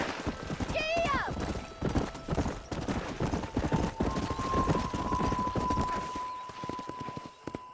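Horses gallop with rapid, driving hoofbeats in the Red Dead Redemption game, close and loud from start to finish, with a horse whinnying near the start and a faint steady tone underneath.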